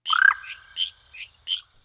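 Frog croaking in a cemetery: a close, loud opening call followed by four short, evenly spaced croaks, alone against quiet surroundings.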